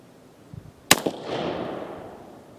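A single loud gunshot from an 1860 Colt Army black powder revolver, a sharp close crack followed by a rolling outdoor echo that fades over about a second and a half.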